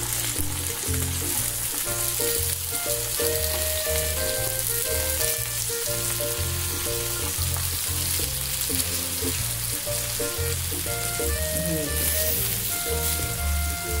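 Chicken chapli kebabs sizzle and fry in a pan with a loud, continuous crackle that stays steady throughout, with no voices over it.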